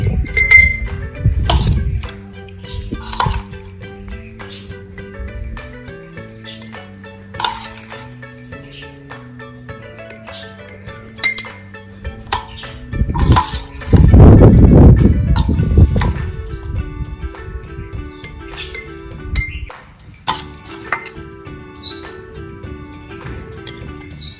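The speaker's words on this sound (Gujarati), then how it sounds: "તો હવે તેને આપણે કાચની બરણીમાં ભરી લેશું" Red chilli mustard pickle is filled into a glass jar, with scattered clinks and knocks of spoon against glass and some scraping, all over continuous background music.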